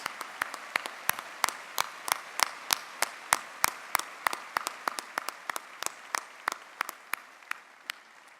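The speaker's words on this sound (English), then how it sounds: "Let's give them a big round of applause to show them that we honor their commitment and sacrifices" Sparse, distinct hand claps from a small gathering honoring emergency personnel at a 9/11 remembrance in Colorado, each clap sharp and separate in an uneven rhythm that thins out toward the end.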